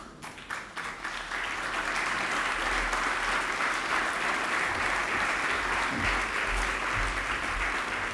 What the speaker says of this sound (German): der Applaus muss ein bisschen länger anhalten, sonst funktioniert das nicht